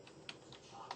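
Keys tapped on a computer keyboard while entering SQL trigger code, a few quiet, sparse clicks spread across a second in a hushed room, with no talking.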